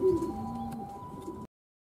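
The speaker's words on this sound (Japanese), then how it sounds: "鳩は5分間経ってもまだ飛び上がりません。" Pigeons coo in a loft, a low repeated warble close by and fairly loud, with a steady hum behind it and no talk.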